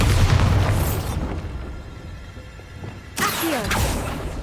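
A Bombarda explosion spell in the video game Hogwarts Legacy: a loud, deep boom followed by a rumbling decay, then a second blast with whooshing debris near the end.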